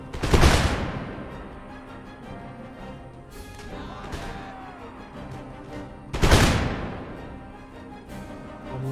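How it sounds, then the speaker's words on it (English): Musket volleys in Empire Total War crash out as two loud, ragged bursts of massed gunfire, each trailing off into rumbling battlefield noise with scattered shots between. "Make ready, aim, fire!"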